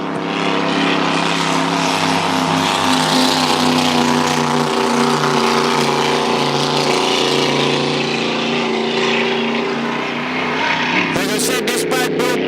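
A Grand Prix hydroplane racing boat engine roars loud and steady at Lake Eppalock during a Gold Cup warm-up, with a dense sustained drone and a rough burst of crackle near the end.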